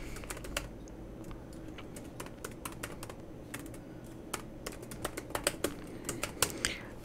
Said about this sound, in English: I have to type here my email.